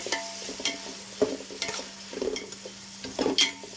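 Long-cut chopped tomatoes cook in a pan for egg pulao, with soft scattered scrapes and stirring clatters over a quiet, low sizzle and faint background hum.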